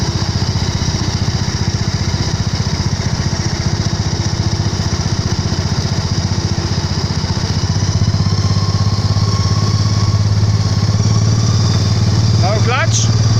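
Engine of a hot rod running while driving without a clutch, a loud, steady, close mechanical drone with a rapid pulsing rhythm that holds throughout and builds slightly toward the end.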